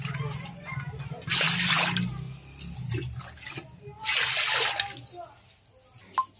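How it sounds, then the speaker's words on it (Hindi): Water pours in two splashy bursts into a large heated pot on a gas stove, close and moderately loud, with quieter kitchen clatter and faint background sounds between the pours. "पहले पानी डाल देते हैं।"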